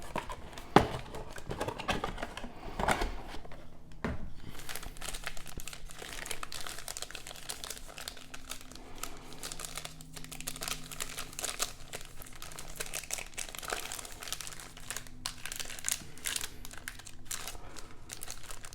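Foil wrappers on packs of O-Pee-Chee Platinum 21-22 hockey cards crinkle and rustle close by, a busy run of crackling handling noise with short taps and rips and no talk.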